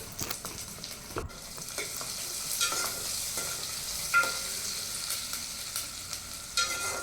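Curry leaves and salt frying in oil in a pan for an amaranth greens dish, a steady crackling sizzle broken by sharp scrapes and stirring clatter, with no voices.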